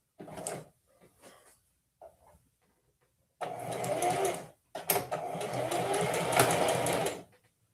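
Sewing machine stitching bias tape onto a shirt in gold thread, running in two loud bursts of steady whirring after a few short, faint starts and stops.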